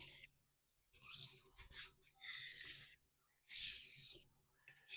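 Kitchen knife drawn across a 6000 grit whetstone at a shallow angle, a series of quiet, hissing rasping strokes separated by short pauses, close up with no talking.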